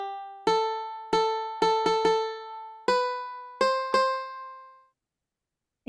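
Single piano notes from a Scratch piano tiles project ring out one after another in an uneven rhythm, each decaying cleanly, close and clear with nothing behind them, then fading to silence.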